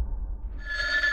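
A telephone starts ringing partway in, a bright electronic trill rising over a low rumbling background, brief and fairly close.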